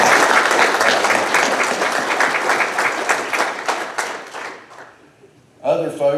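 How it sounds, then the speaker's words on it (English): Audience at a cattle breeders' association event, Montana Simmental Association, gives a loud, dense round of applause that thins into scattered claps and fades, followed by a speaking voice. "Let's give them a round of applause."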